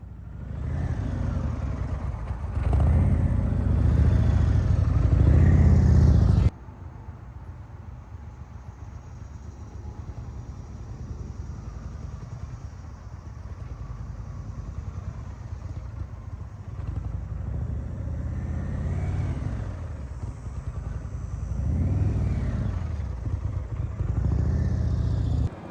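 An Indian RoadMaster motorcycle idles and creeps through slow U-turns under clutch control, a low steady engine rumble that is louder for the first few seconds, then drops and continues evenly with slight swells.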